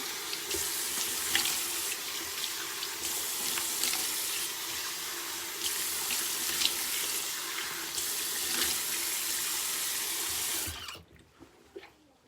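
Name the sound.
warm tap water running in sink for rinsing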